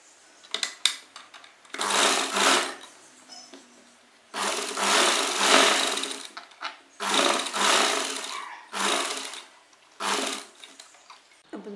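Short and longer bursts of a sewing machine stitch a neck strip on a garment, the motor starting and stopping four or five times with quiet gaps, close by.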